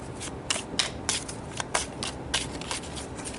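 Tarot cards being shuffled by hand close up, quiet repeated riffling bursts in an uneven rhythm with soft rubbing between them.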